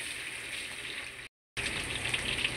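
Garlic and onion sautéing in a pan for spicy bopis, a continuous crackling sizzle broken by a brief moment of silence midway, with no voices.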